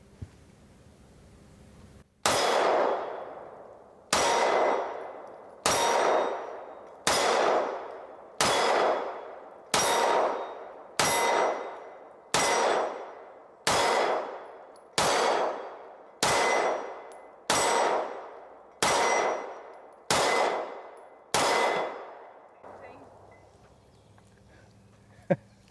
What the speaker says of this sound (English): probably a little bit too far to be shooting with a very small defense pistol